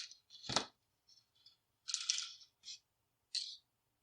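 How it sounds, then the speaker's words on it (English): Small metal wire cutters snip beading wire off a spool, making a few crisp, close clicks and short metallic snaps separated by silence, with one sharper cut near the start. "Let's cut another tail off of the spool."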